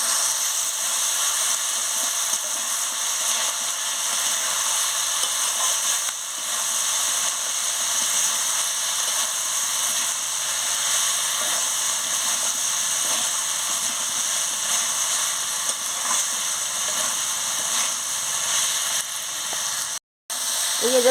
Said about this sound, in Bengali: খুলে নিয়ে আনাজগুলোকে ভালো করে কষিয়ে নিচ্ছি।